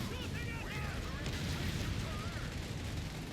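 Air support strafing run in Company of Heroes 3, with rapid gunfire bursts and rumbling impacts mixed into a dense, continuous battlefield din, fairly loud and sustained throughout.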